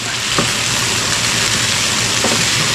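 Potatoes being stirred in a pot of catfish stew, giving a steady loud bubbling sizzle with a couple of faint scraping knocks from the stirring.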